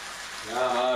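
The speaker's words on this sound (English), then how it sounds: "we'll give that a little bit of a rinse out" Water runs into a satay sauce container to rinse it out for a homemade chicken stir fry, a brief hissing splash whose pitch rises as the container fills.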